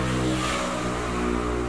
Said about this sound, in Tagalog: Sige lang, ingay ng motor duman